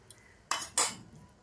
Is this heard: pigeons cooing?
no